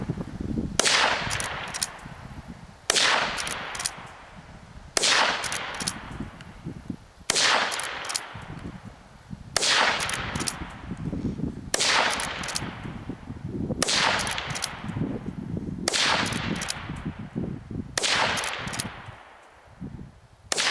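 A Henry lever-action rifle in .17 HMR fires nine sharp, loud shots at a steady pace of about one every two and a half seconds, each followed by a ringing echo and the clatter of the lever being cycled.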